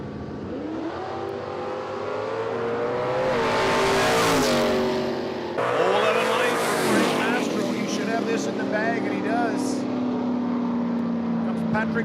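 Drag racing cars, including a white Mustang, accelerate at a dragway, their engines climbing in pitch through rising revs and shifts, loud and sustained while a public-address announcer talks over the noise.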